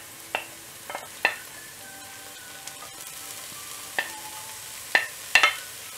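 Garlic and ginger frying in oil over softened onions for hotel-style vadacurry, a low background sizzle punctuated by several sharp spoon knocks and scrapes against the pan.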